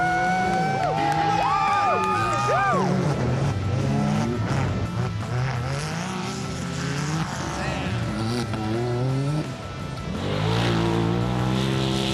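Side-by-side off-road race vehicles roar loudly past during a rock scramble race, engines revving and sweeping up and down in pitch. The sound continues steadily with shouting and cheering mixed in.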